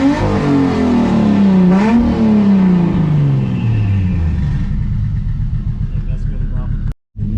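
Tuned big-turbo car engine revs loudly up close, its pitch climbing and falling in sweeps before settling into a lower, rougher drone, then cutting out abruptly for a moment near the end.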